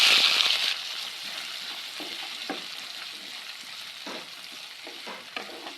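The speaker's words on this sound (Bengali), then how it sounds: "পেঁয়াজটাকে আমি হালকা করে ভেজে নেব।" Chopped onion hitting hot oil with a little sugar in it flares into a bright, loud sizzle, then settles into a softer, steady frying hiss broken by scattered stirring scrapes and clicks.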